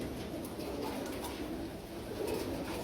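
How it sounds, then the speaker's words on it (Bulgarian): A pigeon that wandered into a loft in Shanovo coos softly in low, steady murmurs with a few faint chirps on top, set against a continuous room hum. "Преди малко влезе тук в Шаново този гълъб."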